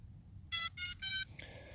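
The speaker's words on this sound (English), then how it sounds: "the drone makes that beeping sound" A RUKO F11 Mini drone gives three short, bright electronic beeps in a quick even run as it powers on, fairly close and clear over a faint background hum, with a softer trailing chirp after.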